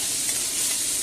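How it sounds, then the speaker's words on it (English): Garlic added to a pan of browning pork ribs, cooking for a Spanish white-wine dish, gives a bright, continuous sizzling hiss, loud and close, with no talk. "what I'll do now is add the garlic"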